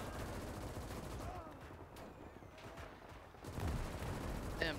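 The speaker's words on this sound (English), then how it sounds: "MG fire." Machine gun fire in the World War II game Gates of Hell, during the 1940 Meuse River crossing at Dinant, as dense, continuous rattling bursts under a steady din of distant battle.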